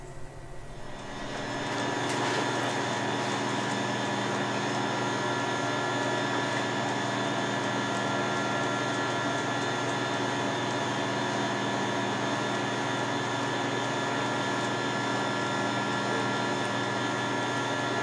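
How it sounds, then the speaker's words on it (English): A CNC machine's spindle spins up from quiet over the first two seconds, then holds a steady, loud, whining hum with a broad hiss throughout, close by in a shop. "So we got the CNC on, got the spindle warming up."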